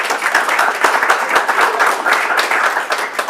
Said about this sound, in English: And another round of applause for the CCIU.